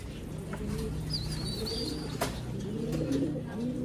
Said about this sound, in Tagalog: Yan, mga ibon natin.